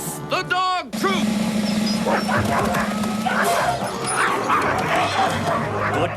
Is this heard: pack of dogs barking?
yes